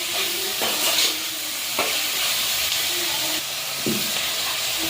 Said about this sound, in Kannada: ಫ್ರೈ ಮಾಡಿ